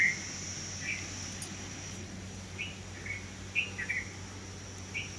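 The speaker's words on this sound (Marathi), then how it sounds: "चिमण्या आवाज करतो" Sparrows chirp from a tree in a quiet green setting, making a few short, scattered high chirps, moderately near, over a low steady background hum.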